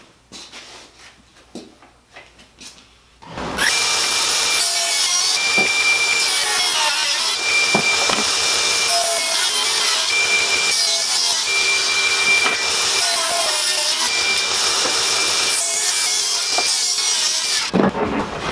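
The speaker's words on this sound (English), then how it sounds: "the first thing I'm going to do is just rip down that bevel off so it gives it some nice" A table saw rips the beveled edge off a 2x4, the blade starting after a quiet moment and then cutting in a loud, steady whine for about fifteen seconds before stopping, with no talking.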